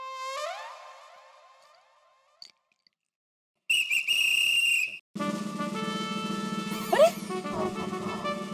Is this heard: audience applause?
no